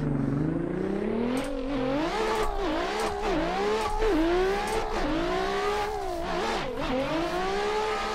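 A 1000+ horsepower ESDA Nissan S15 drift car screams in sixth gear on a banked track, its engine droning loudly and steadily with wavering pitch and brief dips as the car flexes through the banking, close and alone.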